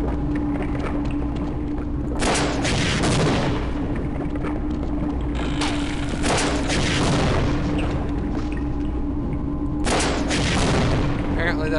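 Heavy bomb explosions in the Half-Life video game boom out in three big bursts spaced a few seconds apart, each leaving a rumbling tail over a steady low game hum.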